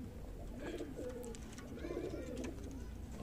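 A pair of Firozpuri pigeons, a male and a female, cooing softly and close by in a few low, rolling calls over quiet background noise.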